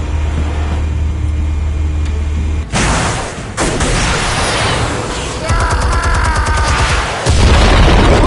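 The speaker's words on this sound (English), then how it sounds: "Explosives armed. Fire when ready." Explosives detonating in Batman: The Telltale Series, a sudden loud blast cutting through a low hum, followed by rumbling debris, a second burst and crackling, sustained heavy booming to the end.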